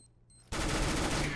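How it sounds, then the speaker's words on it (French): P90 submachine gun firing in a professional Counter-Strike match on the Mirage map: a sudden loud burst of rapid automatic fire that starts after a brief quiet moment and continues to the end. "Messi MSA qui va mettre le décal parfait au P90 et qui va venir le faire tomber 10 à 8"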